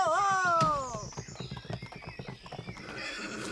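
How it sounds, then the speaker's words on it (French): A cartoon horse in an animated Grimm fairy tale lets out a loud, quavering neigh, then trots off with a quick run of clip-clopping hooves. "Oui, c'est bien, Pancho, t'es un bon cheval."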